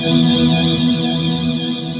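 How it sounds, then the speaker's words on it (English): Sustained, swirling guitar tones pass through an Old Blood Noise Procession reverb pedal set to its flange tail mode, producing a loud, washing, shimmering ambient drone with sweeping modulation that holds steady throughout. "Now we have the Old Blood Noise Procession reverb, which um, at the moment is set on the flange tail"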